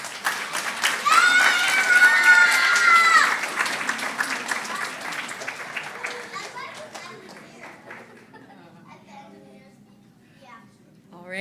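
At a children's camp closing session of a Krishna festival, an audience bursts into applause with excited children's shouts and squeals, loudest early on, then slowly tapering into scattered claps and chatter.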